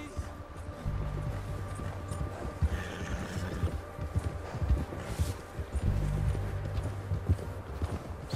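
A horse gallops in the video game Red Dead Redemption 2, rapid hoof clip-clops drumming steadily and close, with brief snorts and game voices speaking over the hooves.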